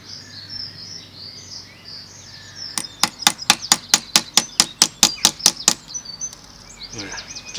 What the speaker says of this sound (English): Use the cross pin and the hammer just to try.